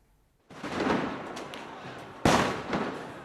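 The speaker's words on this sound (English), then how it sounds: "Stun grenades, tear gas and Molotov cocktails in central Kiev tonight, as angry demonstrators lost their patience with their government" Stun grenades go off during nighttime street protests in central Kiev, two sharp, loud bangs about two seconds apart, each followed by a noisy crowd-like wash.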